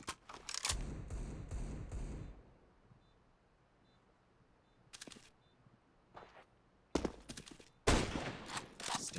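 Counter-Strike gunfire on the Mirage map during a competitive match: sharp bursts of shots, a quick volley at the start, then isolated cracks and heavier clusters near the end, separated by quiet gaps.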